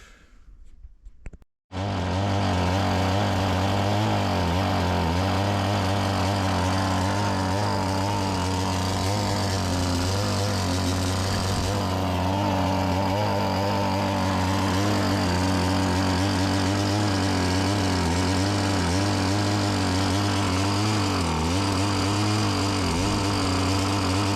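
A Homelite Waterbug water pump's small engine starts after a brief pause and runs steadily and loudly at a fast idle, its buzzing drone continuous and close throughout.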